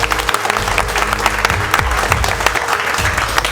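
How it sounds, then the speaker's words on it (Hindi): Dense, steady applause fills the room at an advanced mobile repairing institute, many hands clapping together without a break for a few seconds. "पूरे रतन सर के लिए तालियां।"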